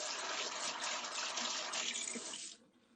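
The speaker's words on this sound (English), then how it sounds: "Just quickly wash my hands." Water runs steadily from a kitchen tap while someone washes their hands during baking, a dense hiss that stays constant and then cuts off near the end.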